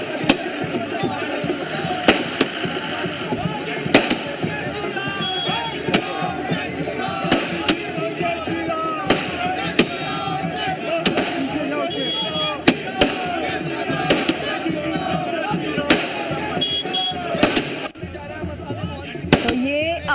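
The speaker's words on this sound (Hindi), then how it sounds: "आतिशबाजी की आपने आवाज सुनी, आतिशबाजी हो रही है भारतीय जनता पार्टी के खेमे में" Fireworks and firecrackers burst at a BJP camp celebrating a Delhi election victory, sharp loud cracks every second or two over a continuous crowd din, with some chopping thuds among them.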